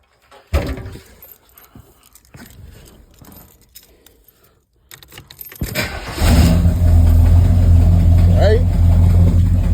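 A Chevy 350 V8 in a classic boxy Chevrolet cranks and fires on a cold start at 54 degrees, then settles into a loud, rumbling idle. Scattered handling noises and a voice are heard before it catches.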